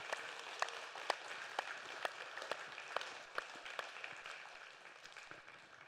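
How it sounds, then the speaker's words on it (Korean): Church congregation clapping at a Sunday worship service, faint and somewhat distant, with distinct individual claps popping out at an irregular, loose rhythm over a soft bed of applause. "같이 한번 박수 격려 한번 할까요?"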